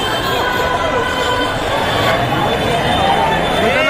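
Dense crowd hubbub at the Lalbaugcha Raja festival in Mumbai, a loud continuous roar of many voices close around, with someone talking over it.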